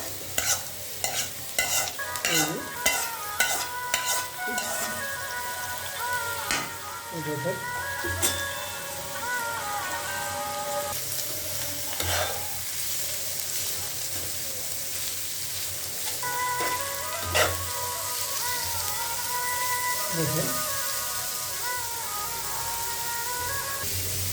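Watermelon rind is tossed into browned onions in a pan for a dried-fish stir-fry, with rapid clattering stirs at first settling into a steady sizzle, and a voice talking over it.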